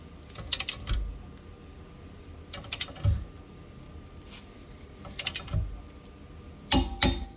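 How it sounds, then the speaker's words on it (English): A torque wrench tightening a tow bar bolt on a Volkswagen Passat B5.5 estate makes four close bursts of sharp metallic ratcheting clicks, each followed by a dull clunk, separated by short pauses. "hold that in place while we tighten that till it clicks"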